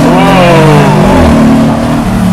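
A Mercedes-AMG G63 accelerates hard, its engine roaring loud and close with rising, shifting tones that sweep upward through the gears without a break.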